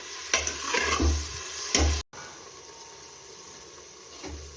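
Onions salted and frying in a pan for chicken rassa are stirred in several close, scraping strokes over a soft sizzle, with a brief cut to near-silence midway before the gentle frying continues.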